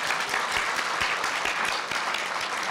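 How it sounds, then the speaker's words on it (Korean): Warm audience applause for the student reporters at a Korea University newspaper anniversary ceremony, a dense, even patter of many hands clapping throughout. "현역 기자들에게 뜨거운 박수 보내주시기 바랍니다"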